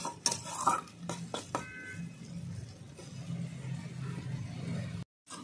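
Spice masala being sautéed in a pan, with a spatula clinking and scraping the pan in a few quick strokes, then a low soft sizzle underneath, close and fairly quiet.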